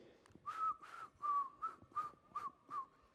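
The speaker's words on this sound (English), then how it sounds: "Imagine your staff coming to work whistling." A person whistles six short, bright notes in a quick, even series.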